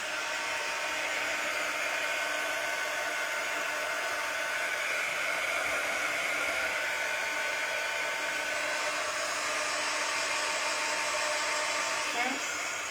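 A hair dryer blows steadily to dry chalk paint on a handmade craft piece for a DIY clock. Its loud, even whoosh runs unbroken from start to finish.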